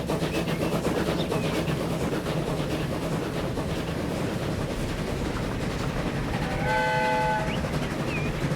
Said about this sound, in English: I can press H to sound the horn or blow the whistle